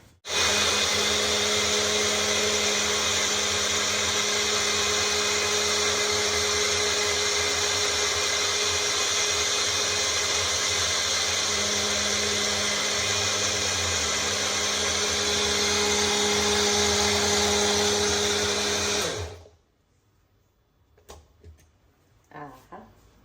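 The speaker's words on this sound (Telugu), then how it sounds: "సో ఇప్పుడు దీన్ని మనం మిక్సీలో చేసేద్దాం" A kitchen mixer grinder blends sapota milkshake with a loud, steady whirring drone for about nineteen seconds, then cuts off abruptly, leaving a few faint clatters.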